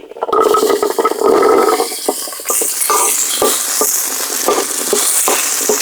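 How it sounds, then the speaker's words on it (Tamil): Small onions sautéed in oil are stirred in a pan with a spoon, giving a close sizzle broken by repeated scraping and clinking strokes at an irregular rhythm, growing brighter and hissier partway through. "வெங்காயத்தை நல்லா வதக்கணும் வெங்காயம் நல்லா கலராக வதங்கிட்டு இருக்கு"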